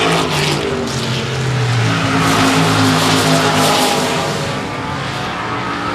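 Stock race cars run side by side at Shady Oaks Speedway, a loud, steady roar of several engines with rising and falling pitch and tires scrubbing through the turns, no voices heard.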